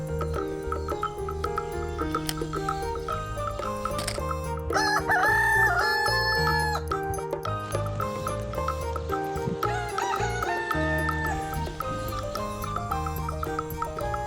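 A toy hen plays electronic sounds, a loud synthetic rooster crow and clucking layered over looping tinny background music, continuous and close.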